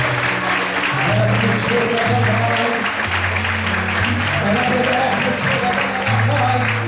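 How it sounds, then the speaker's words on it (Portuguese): A church congregation applauds during an evening service, steady clapping blended with sustained music tones and voices throughout. "Vamos poder aplaudir e exaltar Ele nessa noite"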